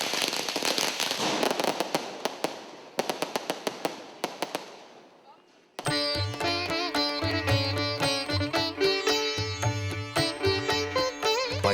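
Diwali firecrackers burst at dawn in rapid sharp cracks and pops, dense at first and then thinning to scattered single bangs, before festive music with strong percussion takes over.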